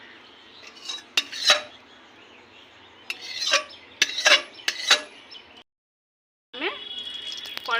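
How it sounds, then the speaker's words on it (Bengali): A kadai wok set on a lit stove, several metallic clanks and knocks close by, with a short silent gap followed by a faint chirp-like sound. "এবার আমি কড়াইটা বসিয়ে দিচ্ছি।"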